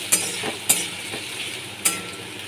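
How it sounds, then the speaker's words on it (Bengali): Potatoes frying in a pan for a kabuli chhola dish, a steady soft sizzle broken by three sharp clinks of a utensil against the pan, close and alone with no voices. "আলুগুলো আমি ভেজে নিচ্ছি।"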